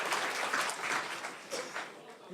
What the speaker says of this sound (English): Round of applause for Tony on the end.